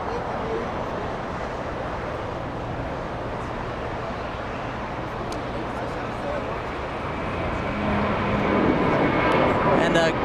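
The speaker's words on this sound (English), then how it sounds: "There goes the Dreamliner." An ANA Boeing 787 Dreamliner airliner departs LAX, its engines a steady broadband roar that swells slightly toward the end, heard from a distance with faint talk mixed in.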